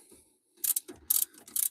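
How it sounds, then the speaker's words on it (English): Ratchet wrench loosening two 12 mm brake caliper slider bolts during brake pad service, heard as several short bursts of close mechanical clicking separated by brief pauses. "we can loosen up our two 12-millimeter bolts"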